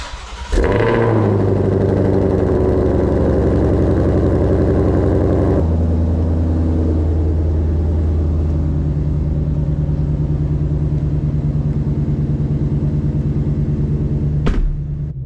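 A 2020 Ford Shelby GT500 fires up from cold by remote start with a sharp, loud bark, then settles into a deep, steady idle that drops lower partway through and runs on for several seconds before cutting off.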